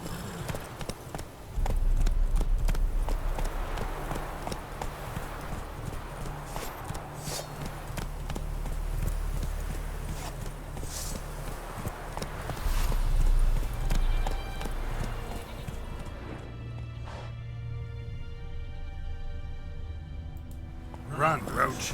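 Roach the horse galloping in The Witcher 3: loud, heavy hoofbeats drumming in a fast rhythm close by, swelling and easing before fading toward the end, while a voice speaks over the riding.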